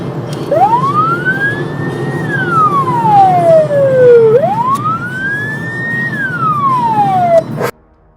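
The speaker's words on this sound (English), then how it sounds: "They hit their sirens, expecting the driver to slow." A loud siren wails close by, rising and falling in two slow sweeps over road noise, then cuts off abruptly.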